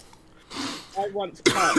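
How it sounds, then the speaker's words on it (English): A single person's cough bursts out after a stretch of speech, near and fairly loud, followed by another short throaty cough or clearing of the throat at the end; talking is heard around it. "Sorry, I was coughing."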